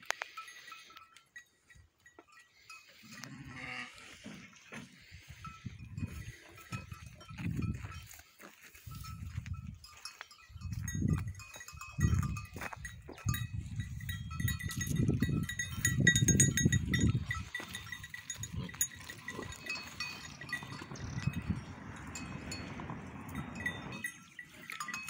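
Sheep and goats bleat repeatedly in a pen during daily handling of breeding ewes, calls rising and falling close by over rustling movement and farm background.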